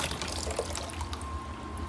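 Water trickles and drips steadily at close range in a twisted, laminar flow experiment, a soft continuous liquid sound over low background hum, no talking.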